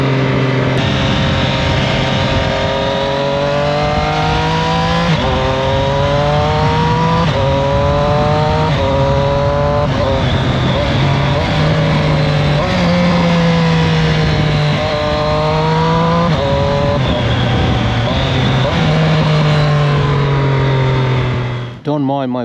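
A Triumph Street Triple RS motorcycle runs continuously on the road, its engine rising and falling through gear changes with steady wind noise, loud and close throughout.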